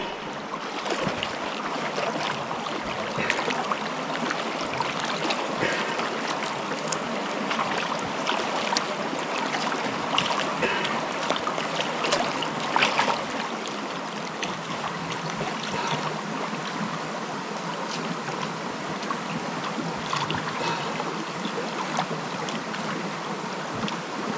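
Water rushing steadily over and around boulders in a Tasmanian creek, a continuous close broadband wash with no break and no voices.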